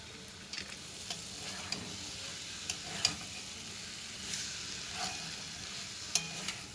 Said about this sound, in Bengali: মশলার সাথে ভালোভাবে কষিয়ে নেব।